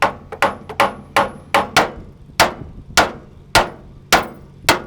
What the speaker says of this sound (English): It's probably not great to hammer on the end of your steering box